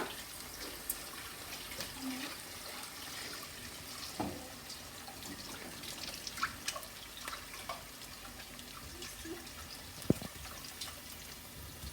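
Quiet running water trickles from a tap as gizzards are washed, with scattered drips and soft splashes of handling, a faint continuous wash throughout.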